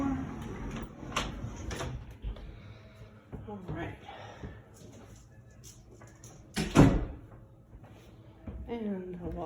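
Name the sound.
elevator door closing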